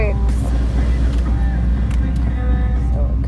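A 1996 Chevrolet Silverado GMT400 pickup with automatic transmission drives along, its low, steady engine and road rumble mixed with wind noise throughout the interior.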